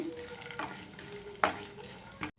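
Lentils fry in a pan for gongura chutney. A faint, quiet sizzle carries a few sharp scrapes as the spoon stirs them, and the sound cuts off abruptly at the end.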